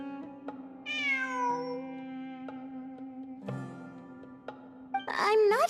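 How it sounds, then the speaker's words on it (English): A cat meows in the Genshin Impact video game, with several clear rising-and-falling meows over a low steady in-game hum, the last one louder and more drawn out. "It really is a cat."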